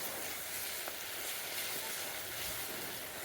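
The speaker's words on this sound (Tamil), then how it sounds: "பச்சை மிளகாய், பூண்டு, தக்காளி இது எல்லாம் அந்த எண்ணெயில் வந்து நல்லா மைய வதங்கணும்." Green chilli, garlic and tomato fry in oil in a village-style fish curry pan, giving a steady, even sizzle and hiss that runs unbroken throughout with no talk.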